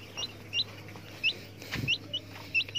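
Breeder chickens in a laying coop give a series of short, sharp clucks and chirps, about a dozen scattered calls at close range over a quiet background hum, with one soft thump partway through.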